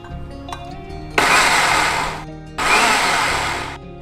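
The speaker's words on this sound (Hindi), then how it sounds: "और अब ये ओट्स को मैं मिक्सर जार में ले लेती हूँ और उसका मैं पाउडर बना दूंगी।" Mixer grinder jar powdering roasted oats, two loud whirring bursts of about a second and a half each, separated by a short pause, close by with no talking.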